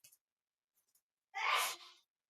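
A single short sneeze bursts out sharply after a couple of faint clicks, with quiet around it.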